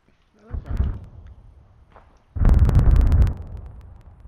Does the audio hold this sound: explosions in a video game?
yes